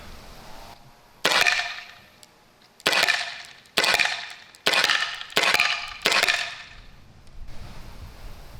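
Practice rounds from a non-lethal launcher fired outdoors, heard as six sharp, loud pops spaced about a second apart, each followed by a short ringing decay, with no voices between shots.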